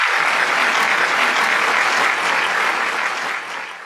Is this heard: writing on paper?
no